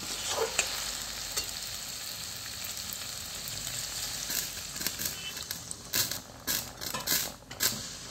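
Water poured onto potatoes cooking in a pan for a chicken paneer curry, bringing a loud hiss and bubbling sizzle, with stirring scrapes and clatter growing toward the end.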